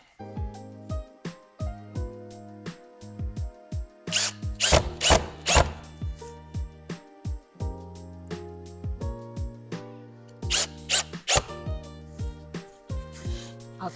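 A power drill drives smaller screws into a canvas stretcher frame joint, four screws per joint, in repeated short whirring bursts with rising pitch and brief pauses, close and loud, with sharper wooden knocks in between.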